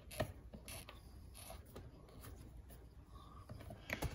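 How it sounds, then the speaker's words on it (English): Hand-tightening screws on a Staples Kelburne office chair during assembly gives quiet ratcheting clicks and rubbing turns, close up, with sharper taps near the start and end. "I'm just going to make sure everything is tightened one last time and give it one more crank."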